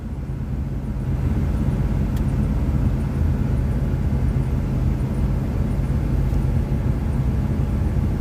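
An engine runs at roughly 2,000 RPM, a steady low rumbling drone that rises slightly in the first second and then holds even and close, with faint ticking above it.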